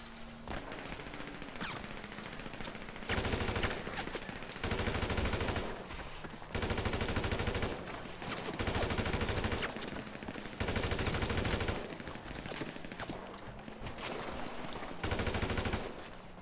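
Bursts of rapid automatic gunfire in the video game GTA Online repeat in short volleys with brief gaps, loud and close, alongside a steady engine-like hum.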